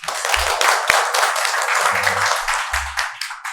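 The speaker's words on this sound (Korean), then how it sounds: "큰 박수로 부탁드리겠습니다" Applause from a conference audience at a Korean ESG forum session welcoming the presenter, a steady wash of clapping from many hands throughout with a few low thumps mixed in.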